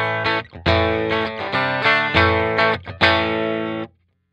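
Electric guitar through a tube amp fitted with capacitor D, several loud, distorted strummed chords ringing close in a short phrase, alone without talk.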